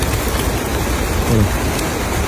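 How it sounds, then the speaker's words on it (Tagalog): Steady rain falls outdoors beside a pond during tilapia fishing, a constant broadband hiss that fills the whole stretch. A voice murmurs briefly in the middle. "Kasi maulan talaga mga idol."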